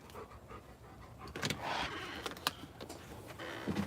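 A happy dog pants close by in a quiet room, a soft rapid breathing rhythm with a few louder bursts and small clicks, and no one speaking.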